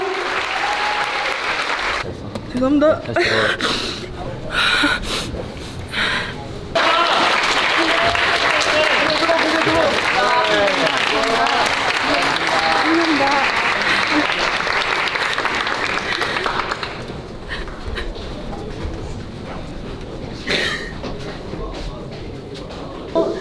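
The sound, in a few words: audience applause for a wrestler after a match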